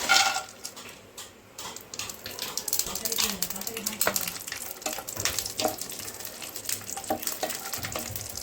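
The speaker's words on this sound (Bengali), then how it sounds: "ঘিটা গরম হলে কাজু কিশমিশটা দিয়ে দেবো।" Cashews and raisins frying in hot ghee for basanti pulao, a crackling sizzle with scattered spatula scrapes and clicks running steadily throughout, close by, with no one speaking.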